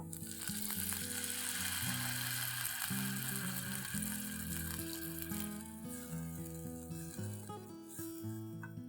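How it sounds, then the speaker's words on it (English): Water poured into a hot pan of sautéed chili, a continuous sizzling hiss over a low steady hum of kitchen noise, close and fairly quiet, with no talking. "So now it's time to add some water."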